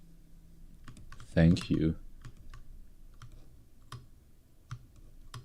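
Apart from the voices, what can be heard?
computer keyboard typing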